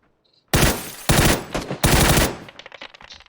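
Loud, close bursts of video-game gunfire in a battle-royale match, several sharp volleys of shots in quick succession with a short pause between, then trailing off into scattered fainter shots.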